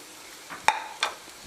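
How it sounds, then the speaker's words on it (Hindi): Corn kernels dropped into a hot pan give two quick sizzling scrapes, the first sharper, as the mixture is stirred, with a faint crackle between them and no talking. "अब इसके अंदर हम कॉर्न डाल देंगे"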